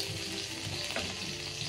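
Garlic frying in a pan for Filipino squid adobo, a steady close sizzle throughout with no talking.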